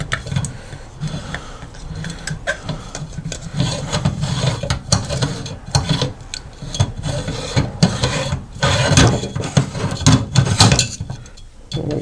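Spring-steel tip on an old screwdriver scraping and prying a lip seal out of a Trimatic TH180 automatic transmission drum, Holden Commodore overhaul: steady close rasping and rubbing with metallic clinks, continuous for the whole stretch, no talk.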